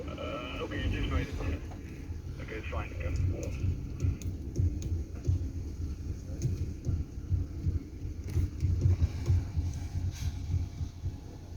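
A Jeep Gladiator rolling down the road, heard from inside the cab as a steady low rumble of engine and road noise with occasional thumps. It runs continuously under faint background voices.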